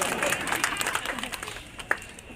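An audience claps at a political rally in Biaora, where a state minister hands out Ujjwala gas connections. The applause is a moderate, crackling patter of many hands that fades a little over time, mixed with crowd voices and one sharp clap near the end.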